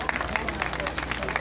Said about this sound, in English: please give them a round of applause who came in